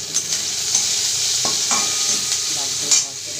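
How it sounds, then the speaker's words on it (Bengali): Potatoes sizzle and crackle in a pan of hot oil, a close, steady frying hiss broken by a few sharp stirring scrapes, with no voices. "পাস্তাটাকে আমি সেদ্ধ করে রেখেছি আর আলুটা এদিকে ভাজতে দিয়েছি"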